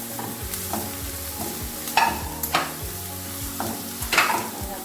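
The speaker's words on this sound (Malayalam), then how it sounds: "ഇതൊന്ന് വഴറ്റി കൊടുക്കാം. വഴറ്റി കൊടുത്തിട്ട് അതിൽ മാങ്ങ ഇട്ട് കൊടുക്കാം." Anchovy (netholi) mixture being sautéed in a pan, a spatula scraping and stirring in uneven strokes over a soft continuous sizzle, with a few sharper scrapes standing out, close up and without speech.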